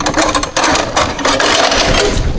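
Nails being pulled from a horse's shoe with a nail puller during horseshoe removal: close metallic scraping and gripping sounds with creaks and small clinks, continuous and fairly loud.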